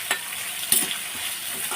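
Food sautés lightly in a pan during a paya preparation, a soft steady sizzle broken by a couple of quick stirring scrapes.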